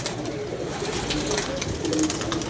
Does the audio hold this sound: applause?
no